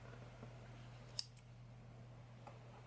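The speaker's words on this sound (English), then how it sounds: "you can finally cut off your yarn" Scissors snip through crochet yarn, two quick quiet cuts close together against a faint steady hum in an otherwise still room.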